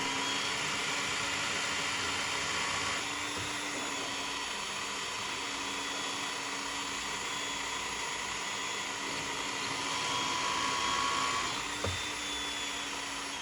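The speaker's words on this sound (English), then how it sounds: "So it will drill out a large portion of bolt" A drill steadily boring out a broken bolt in a gearbox cover, a continuous high whine with a faint bump near the end, no speech.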